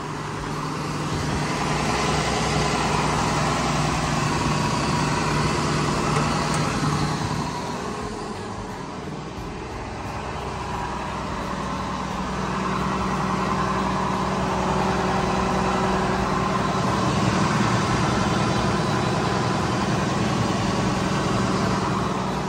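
A John Deere 6610 tractor with about 7000 hours runs steadily at a near, even idle, its low engine drone continuous for the whole stretch with a slight dip midway and no talk over it.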